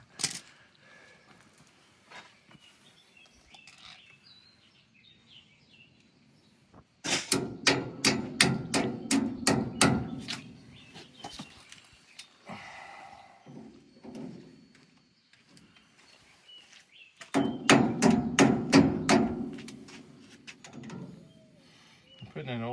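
Two bursts of rapid, ringing metallic hammer taps on a cotter pin of a New Holland haybine, about a dozen strikes each, close up, separated by quieter stretches with faint background sounds.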